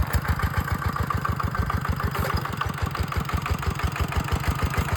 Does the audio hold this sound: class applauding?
no